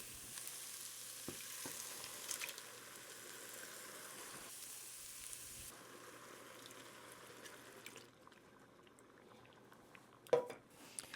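Tomatoes go into a hot pan for a Victorian-style tomato soup, producing a soft, steady sizzle and bubbling that drops quieter partway through, with a brief clink of a spoon near the end.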